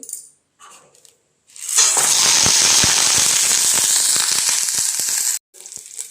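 After a few quiet clinks, loud crackling and popping of tempering seeds in hot oil erupts and sputters steadily for several seconds, then cuts off.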